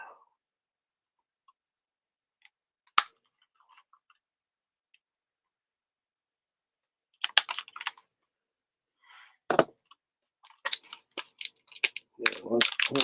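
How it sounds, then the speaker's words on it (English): Scissors snip plastic straps off an action figure's wrists and ankles inside its packaging, giving sparse, quiet clicks and crisp snaps separated by silence, with some talk near the end. "gently cut these plastic straps off his wrists"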